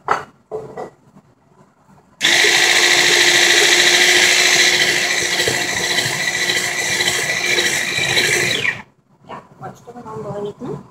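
An electric kitchen mixer whips cake batter in a bowl, running loud and steady for about six seconds with a whining motor tone, then stops. Indoors, with people talking before and after.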